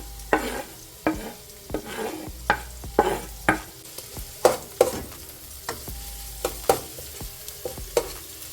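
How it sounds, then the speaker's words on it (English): Hot pepper is stirred into a cooking pot, making repeated scraping and clinking spoon strokes about twice a second over a low, continuous sizzle. "every time that I add it in, I'm just kind of trying to stir it in"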